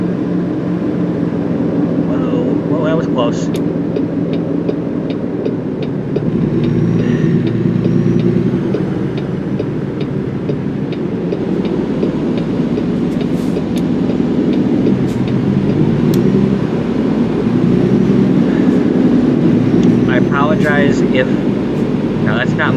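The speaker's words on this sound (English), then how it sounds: "not my truck making all that noise, it's the one next to me" A low, steady truck engine idling rumble drones throughout in American Truck Simulator, with a few faint clanks and higher tones scattered on top.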